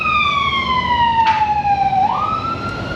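An ambulance siren passes outside an auto repair shop, loud and close. A long, slowly falling wail sweeps back up near the end over traffic rumble.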